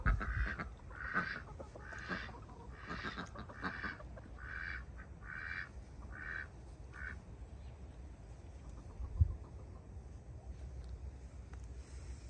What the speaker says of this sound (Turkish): Bunlar herhalde yeşilbaş.